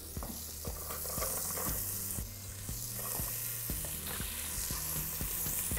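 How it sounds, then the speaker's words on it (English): Onion sautéing in butter in a pot, a constant close sizzle and hiss broken by repeated clacks of a utensil stirring and scraping the pan at a loose, regular pace. "We're gonna saute this onion in the butter just for a few minutes or until it's soft"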